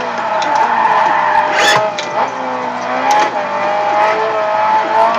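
Engine of a Gran Turismo race car with a four-cylinder S2300 motor stroked to 2.3 liters, droning and revving steadily throughout with brief tire squeal or skid bursts, loud and continuous.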